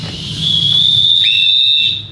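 One long, shrill whistle blast rings out loud and close. It swells in, holds steady for over a second, then fades away.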